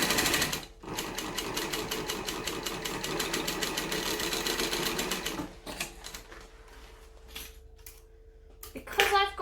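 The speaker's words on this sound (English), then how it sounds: "So top stitching this bag is going to be a breeze." A cylinder arm sewing machine runs steadily, top stitching a bag, its rapid needle chatter loud and continuous for several seconds, then pausing and restarting in short bursts with brief handling noises.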